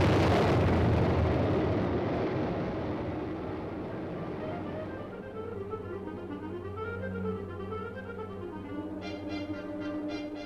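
An Honest John rocket launches toward enemy forces in archival military film, a loud roaring rush that fades into a lingering rumble, followed by faint wavering tones and a few brief pops near the end.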